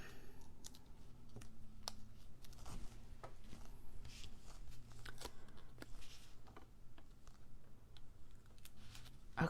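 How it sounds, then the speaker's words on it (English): Adhesive foam dimensionals being peeled from their backing sheet during card-making, a run of sharp crackly clicks and ticks, close and fairly quiet, spread irregularly across the whole stretch with no talking. "Peel these up."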